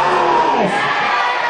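Church congregation cheering and shouting in acclamation at a lively worship service, a dense continuous roar of many voices held at steady loudness throughout.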